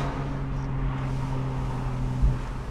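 A Porsche 981 Boxster GTS with PDK gearbox cruising in sport mode, a steady droning engine note with a low hum under road and wind noise, heard from inside the car without speech.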